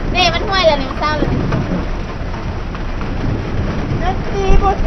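Heavy rain pours during a big storm on a road trip, a dense, loud, continuous hiss with wind buffeting the microphone while people talk over it.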